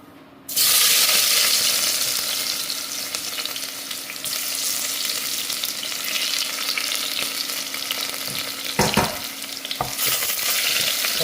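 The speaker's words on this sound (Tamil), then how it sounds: "இப்போ முதல்ல இந்த பூண்டு நசுக்கி வச்சுருக்கேன். இந்த பூண்டை இதோட சேர்த்துடலாம்." Crushed garlic hits hot oil in a pan and sizzles loudly at once, a dense steady frying hiss that continues throughout with a few clatters of stirring near the end.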